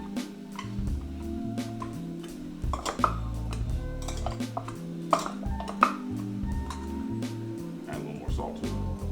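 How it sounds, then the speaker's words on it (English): Boiled baby Yukon Gold potatoes are mashed with a whisk in a pot, giving irregular metallic clinks and taps against the pan while someone talks throughout. "Take this whisk in here, let's go ahead and start mashing."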